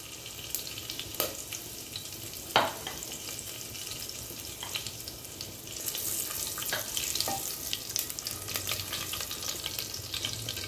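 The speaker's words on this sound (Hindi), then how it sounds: "देखिए हल्का सा जीरा भुनना शुरू हो गया है, तो हम सूखी ये मिर्ची है, हरी मिर्ची है, ये जीरा है और ये हींग है, ये तीनों को मैं इसमें डाल देती हूँ।" Cumin, dried red chillies, green chillies and asafoetida sizzle in hot oil, with a soft, steady frying hiss, a few clinks from a spoon and the sizzle growing livelier partway through.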